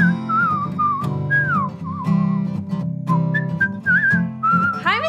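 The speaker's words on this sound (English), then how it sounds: "that whistling is coming from Mr. Music's singing studio" A person whistles a lively tune on their own, the melody sliding up and down with short pauses between phrases.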